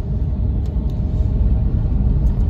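A steady, heavy low roar of wind from a dust storm, gusting and buffeting close by, continuous with faint rattles and no voices.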